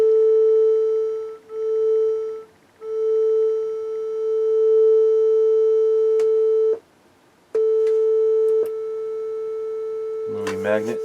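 Steady sine test tone played through a Sansui A80 amplifier, loud and continuous with a few brief dips and one short dropout, then a burst of clicking handling noise at the end.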